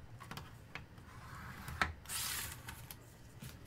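A scoring tool is drawn across paper or card pieces for a lay-flat binding album, giving soft scrapes, light taps and a brief louder rubbing stroke in a quiet room.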